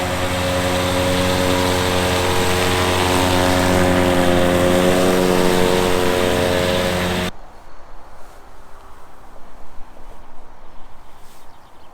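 A 200-horsepower John Deere 7720 tractor engine drones loud and steady with a strong harmonic hum for several seconds during silage work, then cuts off abruptly, leaving quieter rustling background noise.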